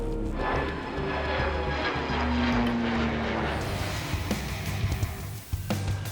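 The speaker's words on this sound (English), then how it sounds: "the LifeLight plane is needed in Wellington" LifeLight air ambulance plane engines drone loudly and steadily from close range, a dense propeller roar with some shifting mechanical rattles toward the end.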